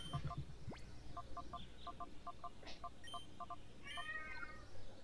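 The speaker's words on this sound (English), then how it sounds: "Oh, I heard a meow." A cat meows faintly several times in a distant room, soft short calls beneath a quiet backdrop of game music and electronic beeps.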